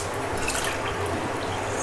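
Water poured into a bowl of sugar for a summer mocktail syrup, a steady close splashing pour with faint dripping that runs throughout and is heard without talk.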